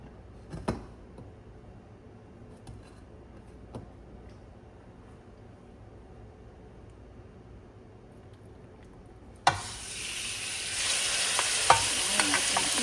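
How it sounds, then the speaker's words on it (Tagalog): Chicken breast goes into hot oil in a pan for a Filipino noodle dish. After quiet handling noises, a loud burst of frying sizzle starts and continues steadily at close range. "Alright, maglagay na tayo ng mantika. Naisutay muna natin ang ating chicken."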